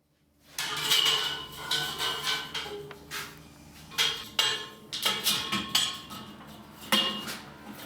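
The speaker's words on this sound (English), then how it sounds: "Before we sharpen the blade, we'll unfold it, give it a clean, make sure there's no extra sawdust debris caught up on the blade" Bandsaw blade being unfolded and cleaned before sharpening: continuous metallic rattling, scraping and clanking from the flexing steel band, close and fairly loud, with repeated jangling surges.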